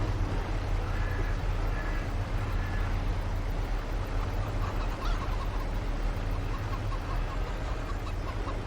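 Chickens cluck in Farming Simulator 22 on the White Farm map, with scattered clucks running continuously through a steady, dense barnyard ambience. No one talks.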